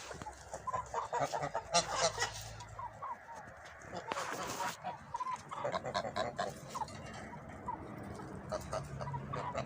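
Hens cluck and chatter in a busy farmyard, with occasional louder squawks and a dog barking, under steady background noise.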